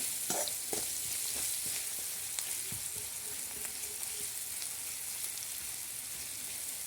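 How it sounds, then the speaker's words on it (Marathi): Chopped onion frying in a pan for upma, a steady close sizzle with the scrape and tap of a spoon stirring through it at irregular intervals, no voices. "दोनच मिनटामध्ये कांदा आपल्याला परतलेला आहे"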